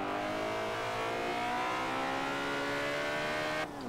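Supercharged Honda S2000 in the racing game Forza Horizon 2, its engine revving steadily upward in a smooth rising whine for several seconds, loud and close, before cutting off abruptly.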